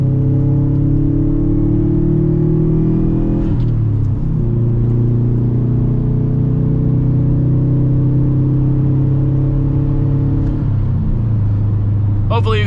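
A Subaru WRX fitted with a catless downpipe and AEM intake hums steadily in the cabin, strong harmonic engine drone shifting pitch with gear changes, turbo spool under load, loud and continuous.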